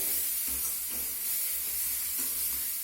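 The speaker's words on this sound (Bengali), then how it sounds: "এবার গ্যাসটাকে একদম কমিয়ে আমি পেঁয়াজটাকে একটু ভেজে নিচ্ছি লাল লাল করে" Onions with ginger and garlic fry over low heat in a pan, giving a continuous loud hiss and sizzle with faint low pulses underneath and no talking.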